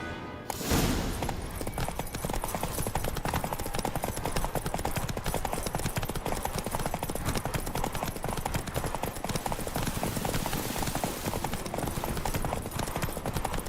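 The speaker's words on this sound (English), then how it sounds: "First to Kaer Morhen wins! That's it, Roach" Horse galloping in The Witcher 3, a steady, dense rush of hoofbeats under loud, continuous game audio that runs for the whole stretch with no pause.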